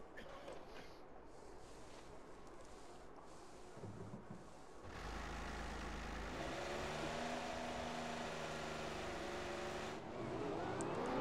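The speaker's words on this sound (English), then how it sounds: "Personnel be aware, we have a car leaving." An F1 racing car in the F1 2015 video game pulls away down the pit lane, its engine swelling from a low rumble into a louder, rising whine that holds steady.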